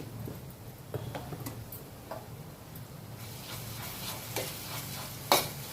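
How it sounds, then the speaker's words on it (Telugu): Ginger garlic paste fries in a pan with a low, steady sizzle, while a spoon stirs it with faint scraping and ticking taps and one sharper clack near the end. "అల్లం వెల్లుల్లి పేస్ట్ పచ్చివాసన పోయే వరకు మంచిగా గోలనివ్వాలి"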